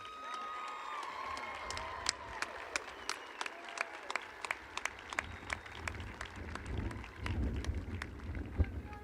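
A high school graduation audience gives a round of applause, sharp distinct claps from nearby hands standing out over a softer, more distant crowd clapping and murmur, with a brief swell of cheering toward the end.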